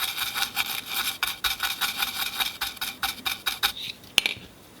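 A small brush scrubs back and forth over an ECU circuit board from an S14a SR20DET to work off conformal coating, giving quick rhythmic bristly strokes up close, about a dozen in a row before a brief pause.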